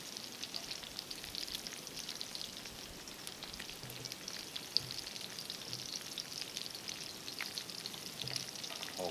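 Candied bacon-wrapped plantains fry over a campfire with a steady, crackling sizzle and scattered pops, continuous and fairly close, with no talking.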